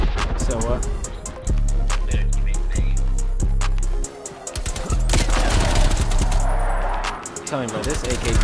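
Rapid AK-47 gunfire from Black Ops Cold War, loud close bursts of shots with short pauses between volleys, mixed with other battlefield noise.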